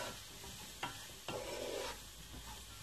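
Bell peppers and quinoa stirred in a pan over a low sizzle, with a couple of sharp utensil scrapes and knocks against the pan, near and with no talking.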